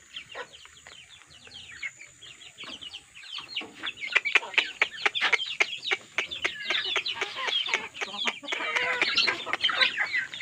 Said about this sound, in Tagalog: Yung ibang inahin pala, mga naglilimlim na.